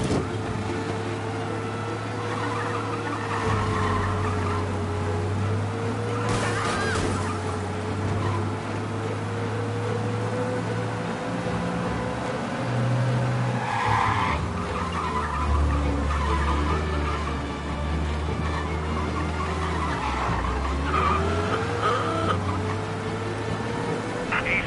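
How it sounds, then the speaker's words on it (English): Car in the Mafia video game driving hard with tires skidding, a constant engine drone under repeated squealing slides and scrubbing bursts, continuous and fairly loud throughout, with no talk. "We lose them by driving real fast and getting clear of them."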